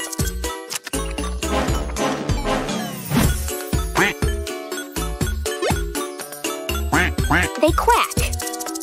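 Cartoon duck quacks in a kids' animal song, short nasal calls scattered among punchy, stop-start music with chimes and jingles.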